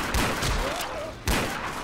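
AK rifle fire in Left 4 Dead 2, with bursts of loud, close gunshots echoing briefly and a second burst about a second after the first.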